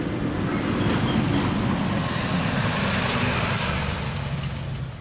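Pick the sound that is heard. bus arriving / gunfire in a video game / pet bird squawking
bus arriving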